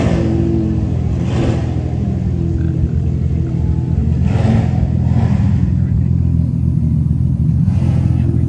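A 2JZ-swapped Nissan S14 at a JDM car meet, its engine rumbling steadily at close range with a few brief rev swells, over crowd chatter and ambient noise.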